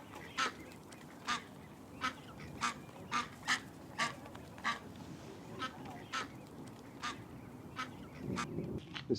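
Wild wigeons, both American and Eurasian, give a steady run of short whistled calls, about a dozen evenly spaced notes over a low hum of open-air background, with no talk.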